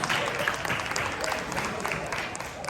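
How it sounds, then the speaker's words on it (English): Elementary school pupils in Arcadia, Los Angeles applaud a classmate during a speech practice, a soft, even patter of small hands clapping at moderate distance for a few seconds. "Let's give him a big round of applause."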